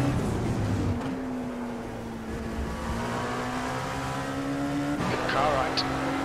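A Dallara P217 prototype race car drones at Laguna Seca in the iRacing simulator, a loud sustained engine whine holding pitch before a gear change, with brief tire squeal and a radio voice speaking over it.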